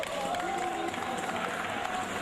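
Wrestling crowd at a Nigerian pro wrestling federation event cheers and roars steadily in a packed arena, a continuous dense wall of noise with no clear breaks.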